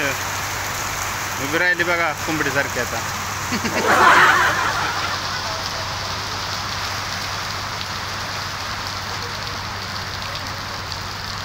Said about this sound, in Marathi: देखो इधर बहुत बारिश हो रही, लय मोठा पाऊस यायला लागला आता.